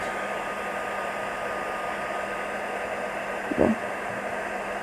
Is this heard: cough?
no